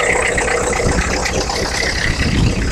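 A 1986 Ford truck engine idles steadily at close range, a continuous low rumble with a light metallic rattle running through it, no voices present.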